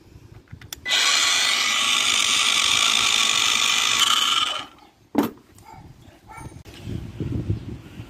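A Parkside cordless angle grinder spins at speed setting 2, a steady loud whine of about four seconds that stops abruptly, followed by a sharp knock and quieter handling noises.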